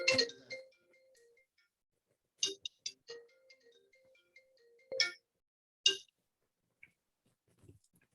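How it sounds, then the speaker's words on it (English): A mobile phone rings during a public water revenue board hearing, giving a repeating electronic ringtone melody of short tonal notes. It is moderately quiet in the room, with sparse clicks between the phrases. "Whoever's phone is ringing, to turn it off?"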